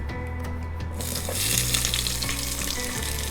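Sliced onions hitting hot oil with whole cloves and fennel seeds, a loud steady sizzle that swells as they go in, with faint stirring scrapes and no voices.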